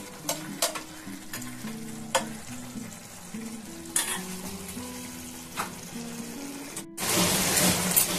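Morola fish simmering in a spicy mustard oil curry sizzles and bubbles while a spoon scrapes and stirs it in repeated strokes, and a loud burst of hissing comes near the end as more oil goes in. No one speaks.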